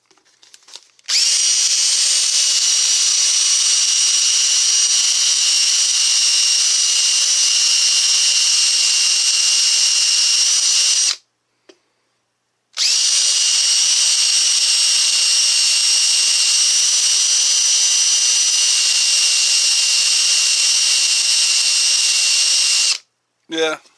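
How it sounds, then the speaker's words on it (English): A Dremel rotary tool spins as a burnisher with a loud, steady high-pitched whine, running about ten seconds, cutting out briefly, then running again for another ten seconds before stopping. "So as long as I keep the speed down on the Dremel, this tool will work the way it is"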